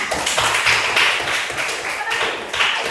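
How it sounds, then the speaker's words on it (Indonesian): Students in an Indonesian school classroom clap together on the teacher's cue, a close, busy burst of hand claps and taps that lasts about three seconds. "Oke, tepuk tangan"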